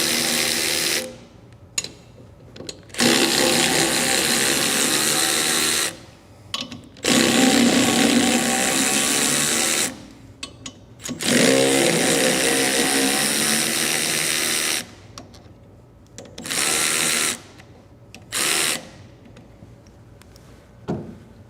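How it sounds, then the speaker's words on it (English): A 3/8 ratchet removes the four bolts from an outboard motor's weedless adapter, making repeated loud, rough bursts of mechanical clicking and grinding of several seconds each, separated by short pauses, up close. "we can use our 3/8 ratchet"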